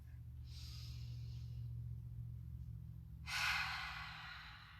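A deep breath during a yoga session, with a soft, drawn-out inhale followed by a louder, breathy exhale near the end, heard close over a steady low hum.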